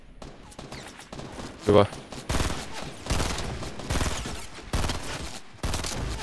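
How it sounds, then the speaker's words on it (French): Gunfire in the video game Fortnite, bursts of shots rattling under excited French chatter from a player, with one louder sharp burst standing out among repeated gun volleys. "on me tire dessus derrière!"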